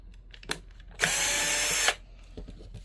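A power drill whirs in one loud, steady burst of about a second, drilling a hole for a side-standing bobbin base, with faint handling clicks before and after.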